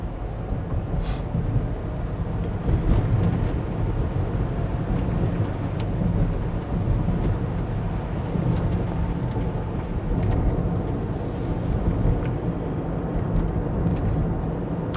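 Rivian R1S electric SUV driving on snowy, icy roads, a steady low rumble of tire and road noise with wind buffeting, continuous and fairly loud throughout without speech.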